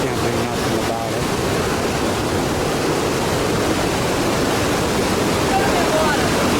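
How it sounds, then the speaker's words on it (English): Continuous heavy rush of water, close and loud, a dense unchanging roar throughout. "Sorry for the loud noise of the water. I can't do nothing about it."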